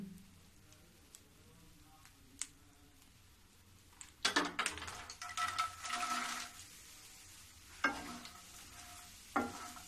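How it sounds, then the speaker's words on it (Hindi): Makhana (fox nuts) roasting in ghee in a pan, with quiet sizzling at first, then bursts of stirring, scraping and crackling that rise and fall, loud and close. "अब इसी में मैं मखाना भून लूंगी"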